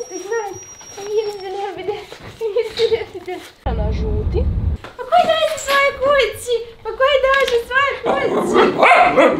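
Dogs bark in short bursts close by, mixed with people talking, with a brief stretch of low rumbling noise partway through.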